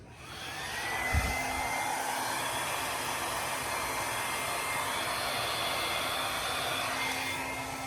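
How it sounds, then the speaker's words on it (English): A blow dryer whirs steadily close by, blowing on wet paint, a continuous rushing hiss of air that lasts the whole time. "blow it out with my blow dryer, which is my preferred way of doing it"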